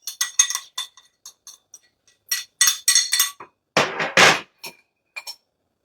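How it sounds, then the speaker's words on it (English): A spoon scrapes the last bits of cooked quinoa out of a bowl, making a run of sharp, close clinks and short scrapes in irregular bursts with brief quiet gaps between them. "So we're going to scrape all of the last little bits out of here"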